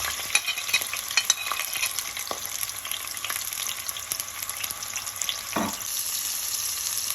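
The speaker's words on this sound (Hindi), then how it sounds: "प्याज डालने के साथ ही हम टमाटर और लहसुन भी डाल देंगे।" Onion, tomato and garlic sizzle steadily in just under half a cup of hot oil for a palak chicken base, with a constant frying hiss and occasional stirring scrapes and clicks, and no one talking.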